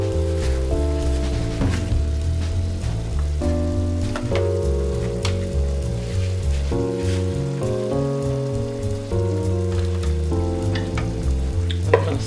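Brown gravy mix is stirred into beef stew with ground beef in a Cosori multi cooker. A steady bubbling sizzle runs throughout, with soft utensil scrapes and a low drifting hum underneath, close and continuous with no talk.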